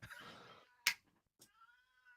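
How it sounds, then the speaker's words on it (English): A house cat meows and yowls nearby, with a sharp click in the middle and a rising, wavering cry toward the end, heard alone at low volume. "My cat's going nuts."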